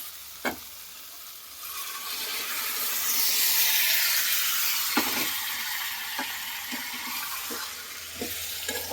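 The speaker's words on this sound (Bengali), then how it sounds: "এবার ডালটা সিদ্ধ করে রেখেছি ওই ডালটা ঢেলে দিব।" Boiled moong dal is poured into fish-head masala frying in a pan, a broad hissing sizzle swelling in the middle and easing off, followed by several soft spoon taps and stirring knocks.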